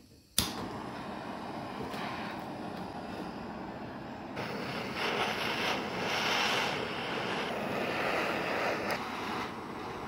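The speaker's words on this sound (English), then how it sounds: "I'm gonna get a blowtorch and blowtorch the tips of this circle saw bit" A blowtorch lit to heat the tips of a circular saw bit for a DIY mullet trap: a sharp ignition pop, then a steady roaring hiss that swells and fades slightly, close and alone.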